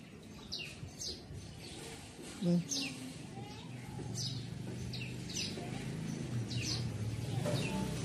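Birds chirp in short, repeated calls spaced throughout, with a steady low outdoor rumble underneath and occasional distant voices.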